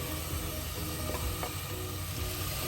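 Tomatoes with salt cooking in a pan, a steady close hissing sizzle with faint bubbling, continuous and even in loudness.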